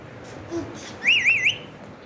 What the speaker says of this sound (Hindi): मियाँ मिठू, सीटी मारो